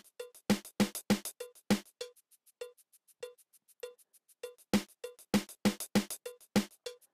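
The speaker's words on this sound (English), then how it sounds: "Now you can hear a shaker in the background and a cowbell." Drum machine playback in a steady groove, with crisp repeating hits, shaker ticks and a tuned cowbell-like tone, close and clean with short silences between bursts and no voices.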